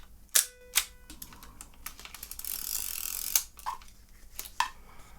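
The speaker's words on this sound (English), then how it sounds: "Cock the shutter, and then we'll just a regular exposure." A Mamiya C220 twin-lens reflex camera clicks and ratchets as its film is wound and shutter cocked, a series of close, sharp mechanical clacks and a brief grinding whir, with no talking.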